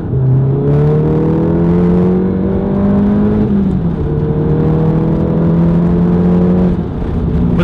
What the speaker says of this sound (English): I'm gonna go through the gears and you'll hear how the car sounds, right?